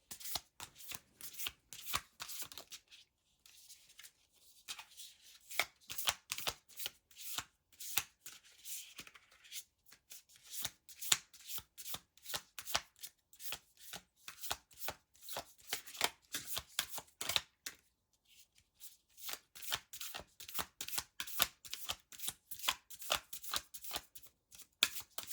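A deck of oracle cards is shuffled by hand during a pick-a-card reading, giving long runs of close, crisp riffling and flapping bursts with a few brief pauses, with no talk over it.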